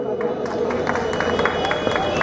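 An audience at a Holi gathering applauds for a committee chairman, a continuous crowd of clapping under an announcer's voice and general hubbub.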